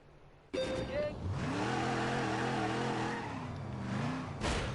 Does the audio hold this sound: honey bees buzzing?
no